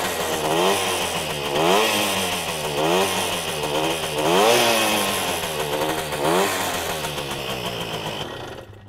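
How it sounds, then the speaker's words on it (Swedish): A small moped engine runs continuously, a buzzing two-stroke drone that rises and falls in repeated revving swells, loud and close, with no talk over it. "Trevlig moped."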